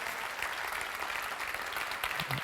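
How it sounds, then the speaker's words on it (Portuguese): Church congregation applauding steadily, a dense, even wash of many hands clapping together that stays at the same level throughout, with no voices rising above it. "Você pode levantar um aplauso a Ele"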